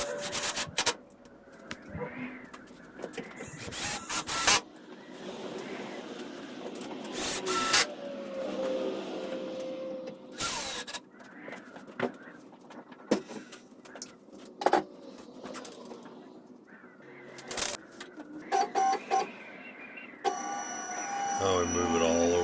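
A hobby CNC machine's gantry traverses across a freshly mounted wasteboard, with uneven whirring, rubbing motor movements in stops and starts and a high electronic beeping burst at the end.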